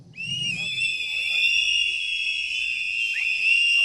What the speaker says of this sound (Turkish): Düdük çalıyoruz.